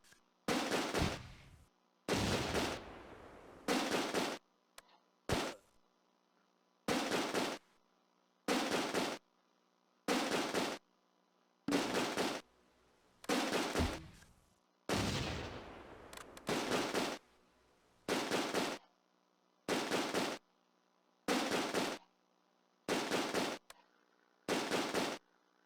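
Bursts of machine-gun and rifle fire from a World War II battle with an MG42 squad in a strategy game set during Operation Market Garden, sharp repeated volleys roughly every second, loud, with silent gaps between them.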